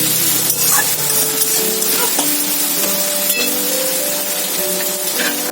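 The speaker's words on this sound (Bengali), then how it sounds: "পেঁয়াজটা ভাজছি," Onions fry in a pan on a home stove, giving a soft, continuous sizzle with light stirring scrapes, heard alone at moderate volume under faint tonal background sounds.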